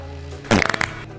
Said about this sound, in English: Farts on the phone.